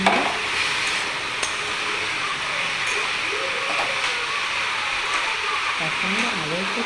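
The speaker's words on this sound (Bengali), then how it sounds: "মিডিয়াম আঁচে করে এবার সামান্য নেড়ে চড়ে নেবো, ঢাকা দিয়ে দেবো।" Food being stirred in a pan over medium heat, with a steady hiss of cooking and light scraping movements. A voice runs over it throughout.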